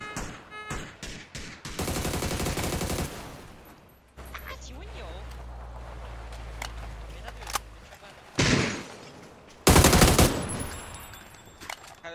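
Bursts of rapid gunfire from a ranked online shooter match, dense volleys at the start and again late, with a low droning hum in between while players talk excitedly over the action.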